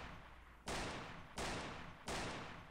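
A shotgun in the video game Trouble in Terrorist Town fires three loud, booming blasts at roughly even intervals, each with a short fading tail and no talk over them.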